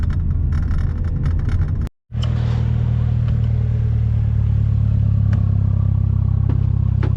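A tuned BMW 120i with light modifications on a race circuit, its engine droning loud and steady at close range after a brief dropout, with faint clatter over the sustained roar.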